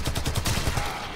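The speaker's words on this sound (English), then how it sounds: "use the Furus and kill these guys" Rapid automatic fire from the Furis pistol in the video game Warframe: a fast, steady burst of punchy shots at an even rhythm, loud and close, lasting about a second.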